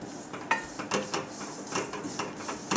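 A spoon scrapes and clinks repeatedly against a pan while stirring roasted sesame and grated dry coconut for pancha kajjaya, in quick irregular strokes that sound close and clear.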